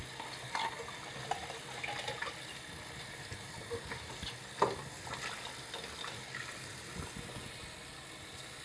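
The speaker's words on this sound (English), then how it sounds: "then what you do is that you just rinse with water." Tap water runs steadily over a silver cup as tarnish and polish paste are rinsed away, a continuous close splashing hiss with a few brief clinks and splatters.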